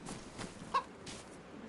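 A chicken in the video game DayZ gives a single short cluck against a quiet outdoor backdrop, with a few softer rustles around it.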